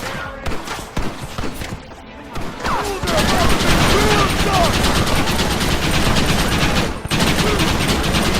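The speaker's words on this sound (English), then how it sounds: "Use that gatling gun." Rapid, sustained gunfire from a Gatling gun in the Western video game Red Dead Redemption, a dense rattling barrage that starts after scattered shots and bursts, with a brief break near the end before resuming.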